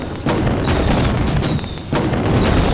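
Firecrackers bursting during a festive celebration outside, giving dense, continuous crackling with heavy low booms that briefly ease off before surging again, loud and fairly close.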